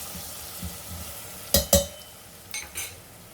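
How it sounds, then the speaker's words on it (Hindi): Tomatoes fry with turmeric and spices in a pan for Sindhi turai sabzi, a soft steady sizzle broken by a few sharp scraping stirs of a spoon against the pan, close and with no voices. "अब इस टमाटर को भी अच्छे से भून लीजिए"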